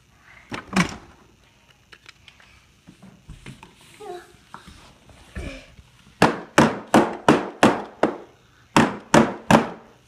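A hammer strikes during a pretend household repair: scattered taps and children's voices early on, then a loud, steady run of about eleven sharp, evenly spaced blows close by.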